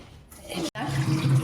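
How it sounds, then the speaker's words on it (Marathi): Fenugreek leaves are rinsed under a running kitchen tap, a steady close splashing rush of water with one brief break. "आपल्याला नळाच्या खाली स्वच्छ पाण्याने धुवायचे हिला"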